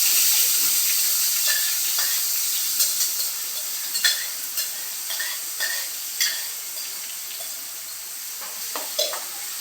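Papad and bhungla frying in hot oil, a steady close sizzle with scattered crackles and pops, occasional stirring scrapes and faint water-like hiss throughout.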